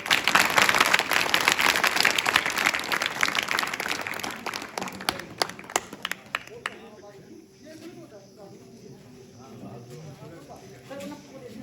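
An audience at a farewell ceremony applauds loudly, the clapping dense and sustained for several seconds before thinning into scattered claps and quieter room noise.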